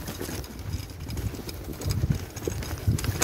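Horse hooves clip-clopping on the road near a horse farm, heard during a bicycle ride: a faint, irregular clopping mixed with wind and low engine rumble, moderately distant.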